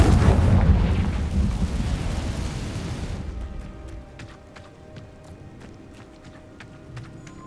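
A Confringo blasting curse explodes in the Hogwarts Legacy video game, a loud broadband roaring blast that decays over about three seconds into a quieter rumbling tail with scattered faint crackles.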